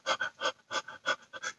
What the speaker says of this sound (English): Hear me breathing now?